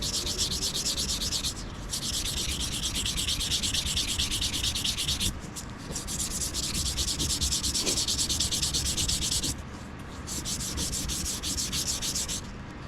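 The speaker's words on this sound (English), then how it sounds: "So let's give this handle a little more. I want this rough for the character." Sanding a wooden wand handle by hand to roughen it: a steady, continuous close-up abrasive rub that pauses briefly three times before resuming, with no voices.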